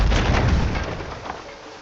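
Heavy ship cannon fire in the pirate trading game Port Royale 2, a loud booming broadside that opens strongly and then rumbles away over under two seconds, with no speech.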